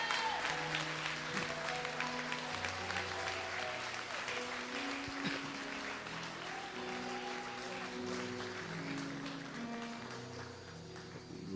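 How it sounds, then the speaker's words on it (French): Applause from a church congregation during a Sunday service, sustained and dense for the full length, with steady tonal music, likely a keyboard, underneath. "nous allons applaudir pour les encourager"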